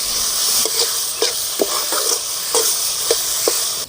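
Tomato with ginger and garlic sautés in a pan with a constant loud sizzle and hiss, while a spoon stirs and scrapes the pan in a loose, repeated rhythm.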